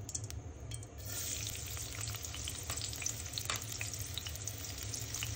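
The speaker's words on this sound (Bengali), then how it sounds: "লাউ রান্না করব চিংড়ি মাছ দিয়ে।" Bottle gourd and prawns sizzle and fry steadily in a pan, a continuous close crackle with some stirring and no talking.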